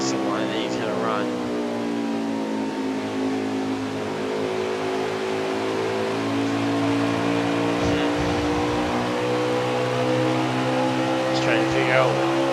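A race car engine in a racing video game at Darlington Raceway drones loudly and steadily throughout, its high harmonic whine holding near-constant pitch with slight swells as the car runs the line.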